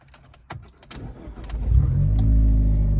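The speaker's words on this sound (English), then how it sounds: "To start it up, I put my foot on the clutch all the way and on the brake." A few clicks and taps, then the engine of a 2012 Fiat 500 Abarth with a manual clutch cranks and catches, settling into a loud, steady idle close by.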